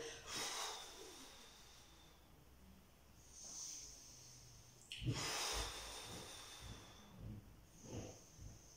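Slow, audible breaths in and out during a gentle yoga session, a soft inhale-like rush early on, then stronger exhalation bursts after a pause, heard close and without talk.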